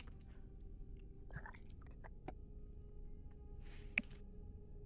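Chewing and crunching come through up close and quiet, with sparse wet bites and a sharp crunch near the end over a low steady hum.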